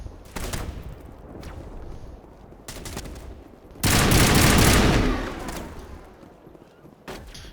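Gunshots from a coordinated crossfire on Virmire in Mass Effect Legendary Edition, sharp bursts of rifle fire and a heavier sustained volley in the middle, fairly loud and broken by short pauses.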